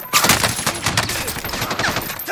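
Rapid bursts of automatic gunfire crackle in an online shooter game, a dense stream of sharp shots running steadily for a couple of seconds with no talk over them.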